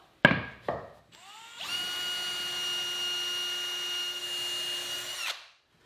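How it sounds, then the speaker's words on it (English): A power drill pre-drills screw holes in wood for a modern sofa table build. Two short knocks come first, then the drill whirs steadily at close range for about four seconds and stops abruptly. Nobody speaks. "Next, I'll pre-drill holes for screws so I can attach the dividers"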